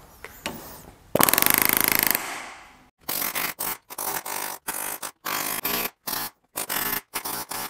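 A pneumatic rivet gun with a nylon face hammers an aluminium canopy ring against an MDF form block to shrink it for a Hawker Typhoon canopy modification, in loud, close rattling bursts with short pauses between them.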